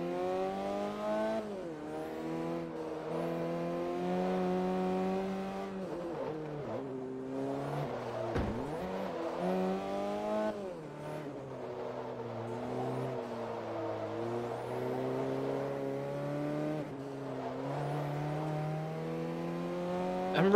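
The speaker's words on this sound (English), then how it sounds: "I'm really liking how this car drives" A race car engine in Forza Motorsport 3 on the Fujimi Kaido course, revving up and down through repeated gear shifts in a continuous drive, steady and moderately loud with no talk.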